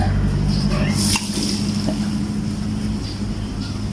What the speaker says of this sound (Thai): แล้วเสียงมอเตอร์ก็จะค้างนะฮะ เสียงมอเตอร์ก็ค้าง